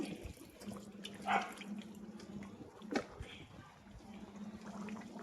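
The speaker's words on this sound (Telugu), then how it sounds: "చింతపండు పులుసు పోసుకుంటున్నాం" Tamarind juice poured into a simmering bombil (Bombay duck) curry, a soft continuous liquid pour and splash close by with a couple of brief louder clinks, over a low steady hum.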